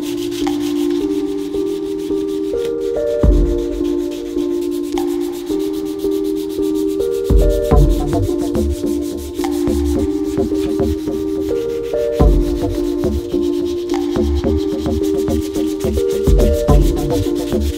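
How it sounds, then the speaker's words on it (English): Sanding on the rear quarter panels of a 1967 Porsche 911R in a garage, a steady, loud abrasive rubbing that runs continuously in close, repeated strokes with no talking. "So I'm gonna wrap up the sanding really quick here on the quarters"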